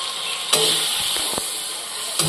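Milk is poured into a banana-flower curry (mochar kalia) in a hot pan, bringing a loud steady sizzle and hiss with a few quick utensil clinks and a spoon tap near the end.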